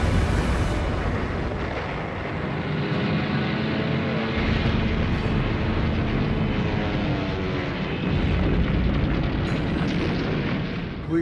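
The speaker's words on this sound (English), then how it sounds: "an enemy bomb penetrates the deck and hits the ship's ammo dump" A massive bomb blast igniting a battleship's ammunition store aboard the USS Arizona during World War II, rendered as a loud, sustained roaring rumble that fills the whole stretch with heavy low-end thunder and churning noise.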